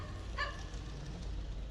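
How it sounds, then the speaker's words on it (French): A dog on a city street gives a single short bark at a distance over steady outdoor background noise. "il y a un chien qui aboie de fou."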